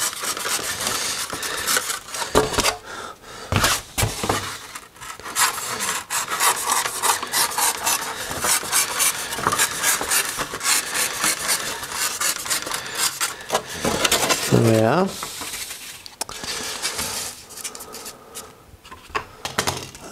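Insulation edges being beveled by hand, a continuous close scraping and rasping rub with uneven strokes for about twenty seconds, no talk.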